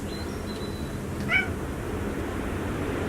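A street cat rescued from abroad, living in a multi-cat household, lets out one short, clear meow indoors against a steady background hiss, with no one talking.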